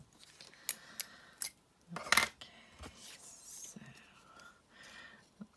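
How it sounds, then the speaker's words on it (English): Scissors snipping through stamped paper for a paper-piecing card, a series of sharp separate cuts and rustles close by, with soft whispered talk between them. "I'm actually cutting through the black line"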